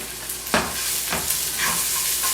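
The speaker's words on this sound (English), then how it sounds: "Let them cook for about 4 or 5 minutes. And meantime, your mushrooms look delicious. They're caramelized." Mushrooms sizzling and caramelizing in a frying pan, a steady bright hiss with a few scraping stirs of the pan, close and loud with no talk.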